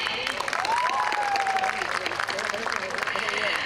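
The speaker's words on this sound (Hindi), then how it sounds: "तो एक बार जोरदार तालियां बनती हैं" An audience at a TV serial preview event bursts into sustained applause, steady dense clapping mixed with crowd noise and a brief whistle, voices faintly under it.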